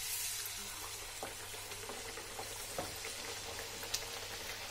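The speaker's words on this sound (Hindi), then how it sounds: "अब हम इसको गर्म तेल में डाल देते हैं।" Corn-and-radish puri dough frying in hot oil in a pan gives a steady, soft sizzle with scattered faint pops and crackles throughout, and no one talks.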